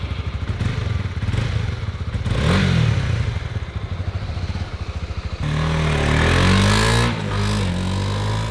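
A Honda CB150X adventure touring motorcycle idles with a close, throbbing putter, revs briefly, then pulls away with a rising engine drone, loud and continuous with no talking.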